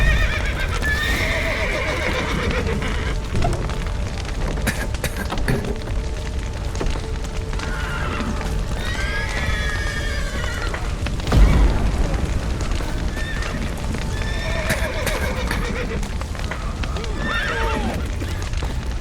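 Several horses neigh and whinny repeatedly over galloping hooves in The Witcher 3: Wild Hunt video game, with a deep boom partway through and a noisy, rumbling backdrop throughout.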